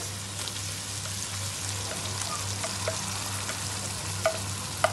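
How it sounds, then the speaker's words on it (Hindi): Chopped tomatoes are stirred in a pan over a low flame: a steady close sizzle runs throughout, with scattered scraping ticks from the spoon and a low electrical hum beneath, and no voices. "आप इसे अच्छे से स्टर कर लीजिएगा"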